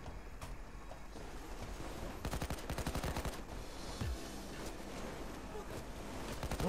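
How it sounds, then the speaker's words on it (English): Rapid bursts of automatic gunfire from the Payday 2 heist game, dense rattling volleys with a sharp cluster of shots midway, layered over constant game noise and action. "Back to shooting him out then."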